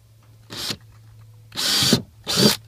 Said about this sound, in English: Always feels funny to hit your brand new kayak with a drill